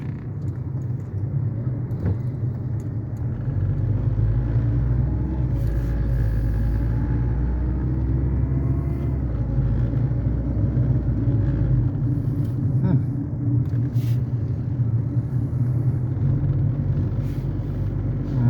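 A stuck tanker truck being pulled out on a road, with a heavy engine rumbling steadily and loudly throughout, plus occasional faint knocks and hisses, and people talking quietly over it.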